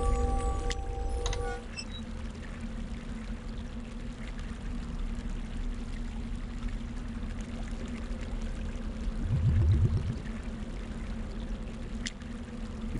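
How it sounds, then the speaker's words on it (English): Water pours steadily as an amphora is filled with fouled water in the video game Quest for Glory V, a continuous trickling flow over a low background hum, with a short muffled thump near the end. "You fill your amphora with the fouled water"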